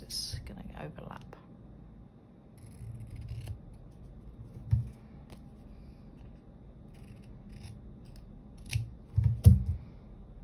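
A few short snips of scissors cutting paper and sticker pieces from spare K-pop album inserts, close and soft amid quiet handling noise, with someone speaking briefly.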